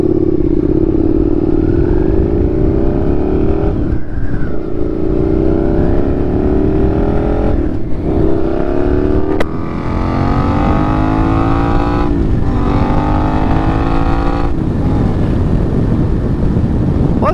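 A 2022 Suzuki SV650 motorcycle is ridden hard, its engine revving up in repeated climbing pulls between gear changes, loud and close, with wind noise buffeting the microphone.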